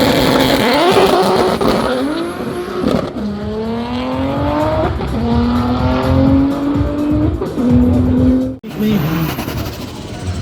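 A Mercedes V8 biturbo drag car at a Slovakia Ring power festival roars close by, its engine note climbing through rising gear pulls with brief drops between shifts, loud and sustained, with a voice talking over it.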